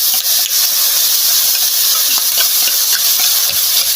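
Minced pork stir-fries in a hot pan for a Lao-style salad, giving off a loud, steady sizzling hiss with faint scraping stirs, close up and without talk.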